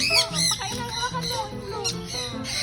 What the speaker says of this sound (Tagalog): Andito pala yung mga ibon eh.